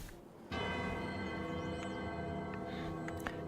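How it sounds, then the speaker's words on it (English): A bell in Punishing: Gray Raven, set among large Chinese-style mountains, strikes once and its bright metallic tone rings on with a long, steady sustain. "This is the sound of a bell."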